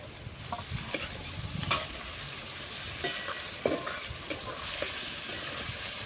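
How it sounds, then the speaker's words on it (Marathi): Tomato fries with mutton in a pan over a wood-fired stove, producing a continuous dense sizzle with scattered stirring scrapes and crackles throughout. "टोमॅटो टाकायला घेतलाय, तो थोडा चांगला भाजून घेऊया."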